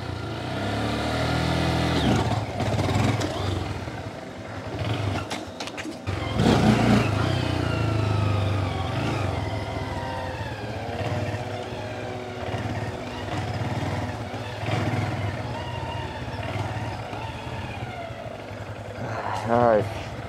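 Honda Grom motorcycle engine revving repeatedly at close range, with rising and falling pitch sweeps as the throttle is blipped, while a rider talks over it throughout.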